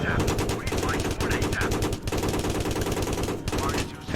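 Rapid machine-gun bursts and gunfire aimed at soldiers in a war video game, loud and close, coming in repeated stuttering volleys separated by brief gaps.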